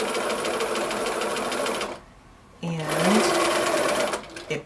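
A sewing machine runs fast and loud, joining pieces of a pre-cut quilt kit. It stops for a brief pause and then starts again, with someone speaking over part of it.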